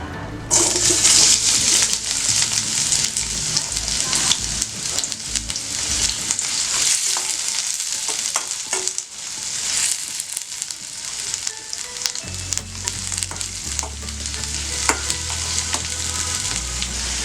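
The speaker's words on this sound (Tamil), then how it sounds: "நல்லா வெங்காயம் வதங்கட்டும்." Chopped onions fry in a pan for a spleen masala, giving a dense, continuous sizzle with occasional stirring scrapes and low clatter throughout. No one talks.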